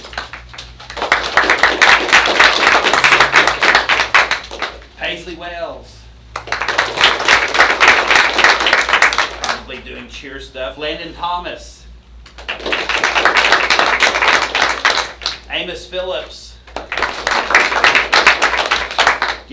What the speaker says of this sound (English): y'all can clap for them as they come up